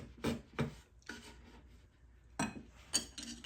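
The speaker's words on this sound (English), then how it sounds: "I'm going back to the big Sorby chisel here." A big Sorby chisel pares soundboard wood in a few short, rasping scrapes, quiet and close, separated by pauses, with a final cluster of quicker strokes.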